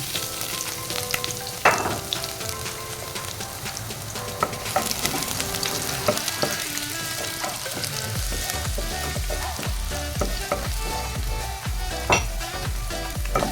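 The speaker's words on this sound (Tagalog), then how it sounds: "Haluin lang at gisa-gisa muna natin sila hanggang mag-brown para mabango ang ating luto." Ginger and garlic sauté until browning in a pan for chicken curry, a steady close sizzle with intermittent stirring scrapes and light clatter, no talking.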